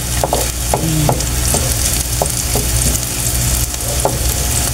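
Onions and spices are sautéed in a pan for Bicol Express with dried anchovies, giving a loud, close, continuous sizzle broken by periodic scraping and clinking stir strokes. No voices are present.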